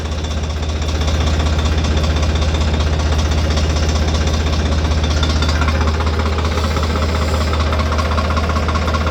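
A tractor engine chugs steadily on a road with a deep, even knocking throb that builds in the first second and then holds loud and constant, with no voices.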